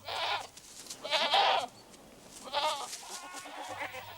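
Goats loose in a Madagascar forest bleat in several short, nasal calls spaced a second or so apart, moderately close, over a faint background hum.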